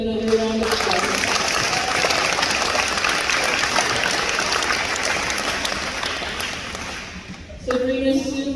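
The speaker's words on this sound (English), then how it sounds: "Let's give them another round of applause" Sustained applause from an audience at a junior high school awards ceremony, steady dense clapping filling the room for several seconds, easing briefly before swelling again at the end.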